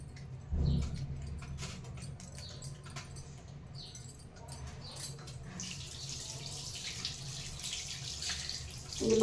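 Crabs with their eggs being washed under a running kitchen tap, a steady close splash and trickle of water with scrabbling and clattering as the shells are handled, the flow growing fuller toward the end.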